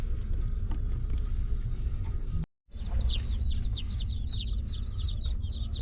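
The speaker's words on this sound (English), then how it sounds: "This is what the baby chicks come in, and hi Sadie" After a brief cut, a cluster of baby chicks picked up from a US post office peeps rapidly and repeatedly, high and chirpy, close by over a low engine rumble.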